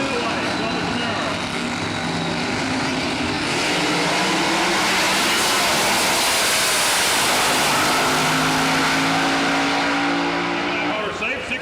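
A nitrous Pro Mod Camaro roars down the quarter mile at the 2003 IHRA Spring Nationals drag race in Rockingham, NC, a loud sustained engine blast filling the whole stretch, with commentary underneath.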